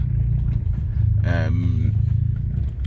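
A car with a DSG7 DQ200 gearbox and a newly fitted clutch drives on a test run, its low, even engine and road drone running throughout while someone talks over it.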